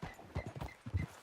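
Horse hooves clip-clopping at a walk in the Red Dead Redemption 2 video game, a quiet, evenly paced series of soft thuds with no talking.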